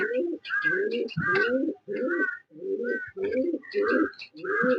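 Pigeons feeding their chick, with repeated close, breathy cooing and squeaky begging calls in short bursts, one after another with brief gaps.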